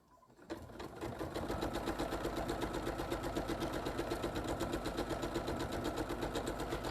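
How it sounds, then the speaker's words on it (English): A sewing machine starts up after a brief quiet moment and then runs steadily at speed, its fast mechanical stitching rhythm close and continuous. "underneath the sewing machine"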